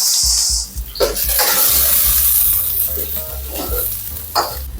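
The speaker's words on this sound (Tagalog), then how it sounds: "Yan, lagyan natin ng konting mantika. Gisa lang natin ang sibuyas." Onion sautéing in a little oil in an old frying pan, a steady close sizzle with stirring scrapes running throughout, with no talk.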